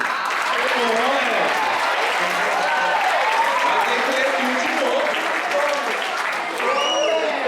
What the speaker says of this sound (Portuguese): Uma salva de palmas para esse menino aqui.